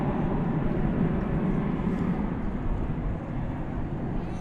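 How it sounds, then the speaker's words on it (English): American Airlines jet departing DFW Airport for Omaha at night, its engine roar a steady, broad rumble heard from a distance, continuous for the whole stretch with no talk. "you're listening to American Flight 2628 departing for Omaha,"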